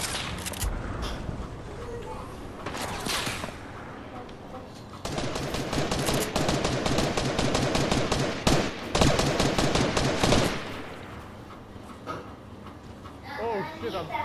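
Gunfire in an online shooter video game crackles in long, rapid bursts and scattered single shots, some loud and close, with players talking over it.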